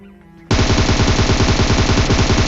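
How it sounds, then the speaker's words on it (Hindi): Sustained automatic fire from a DP-28 light machine gun in PUBG, a loud, rapid, continuous burst of shots that starts abruptly after a brief quiet moment and runs without pause to the end. "मैंने डीपी से थोड़ा सा प्री फायर देने की कोशिश करी"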